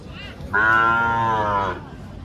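A Sahiwal cow at the Birampur cattle market in Dinajpur lets out one long, loud moo nearby, standing out over faint market background noise.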